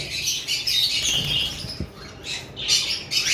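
Locally bred pet birds at a breeder's aviary squawk and chirp in a steady, overlapping chorus of shrill calls, close and fairly loud, with no talking.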